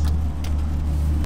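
Ferrari 488 Challenge EVO racing car engine as the car moves off in the rain, a steady deep drone close by with faint ticks and clicks over it.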